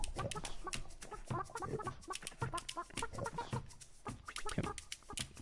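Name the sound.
chicken clucking in the video game Burly Men at Sea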